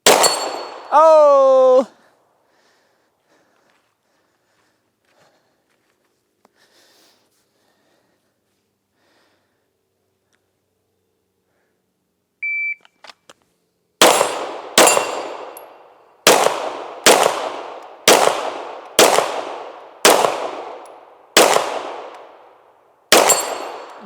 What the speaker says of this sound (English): We're gonna shoot a little bit further targets back. We're gonna go for the farthest one.